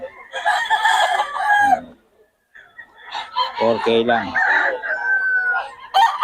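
A gamecock of a named bloodline crows loudly nearby, then crows again, while people talk over and between the calls at a rooster sale in Bocaue.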